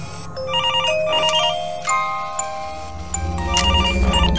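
A phone ringing in The Return to Freddy's video game, a loud, repeating electronic ringtone that warbles in steady bursts over a low hum.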